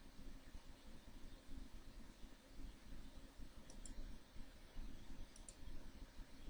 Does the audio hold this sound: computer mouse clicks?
yes